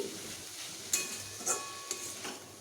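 A gentle sizzle of radish greens frying in a partly covered pan runs under occasional scraping strokes and light metallic taps from a spatula.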